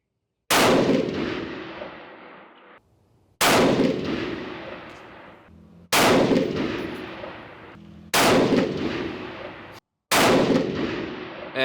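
Five rifle shots from a 7mm PRC firing handloads with Federal large rifle magnum primers at an outdoor range, each a loud sharp crack with a decaying echo, spaced about two seconds apart, with no talk.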